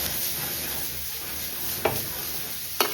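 Chicken kheema frying with onion and tomato in a pan, with a continuous hiss of sizzling oil and two sharp utensil taps near the end, without any talk.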